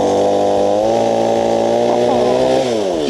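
Chainsaw cutting logs, a loud close engine whine holding high revs with pitch shifting as the chain bites into the wood, running continuously throughout.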